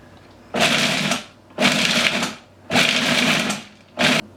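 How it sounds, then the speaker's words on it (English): A food processor grinds almonds and dates in four short pulses, each a loud, coarse whirring burst of about a second with brief pauses between, heard up close and with no talking. "I think we'll process it a little bit more and get the almonds a little smaller"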